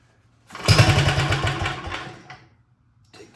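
A Wheel Horse RJ 58/59 tractor engine is pull-started by rope: a sudden loud, rapid chugging burst of cranking that fades out after under two seconds without catching, followed by a brief faint clunk.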